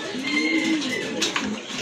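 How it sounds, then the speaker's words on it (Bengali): A Kaldom pigeon pair cooing close by, a short soft throaty coo with a low rolling tone and a faint clink in the background. "আরেকটা পেয়ার দেখতে পাচ্ছেন এখানে, এটা হচ্ছে আপনার কালদম কবুতর।"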